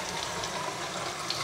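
Alkaline water pours steadily in a continuous broadband rush, close by, with no voices over it, while cooking shrimp tempura sushi.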